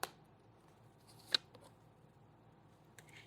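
Tarot cards are picked up and handled in a quiet room, with a soft shuffle and a few faint flicks and taps spread across a hushed background.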